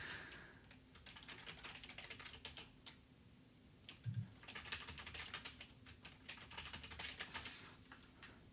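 Rapid typing on a computer keyboard, close and quiet, in two bursts of dense key clicks separated by a short pause with one louder tap.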